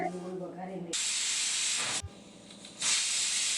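A pressure cooker cooking fresh green pigeon peas lets off steam in a sharp, loud hiss that starts abruptly after a quieter tonal stretch, breaks briefly, then resumes even stronger.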